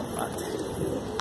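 Desi high flyer pigeons coo softly and steadily at close range, a low murmuring burble that continues throughout with faint background noise.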